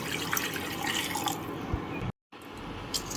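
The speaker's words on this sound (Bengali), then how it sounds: "এবারে এর মধ্যে আমি জল দিয়ে দেবো।" Water splashes and trickles into a pan of spiced fish curry with sautéed masala, a close, steady pouring hiss with small splashes, briefly cut by a short silence before the liquid sound resumes.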